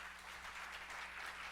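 A church congregation applauds in a steady, dense wash of clapping that sounds faint and somewhat distant, with no voices over it.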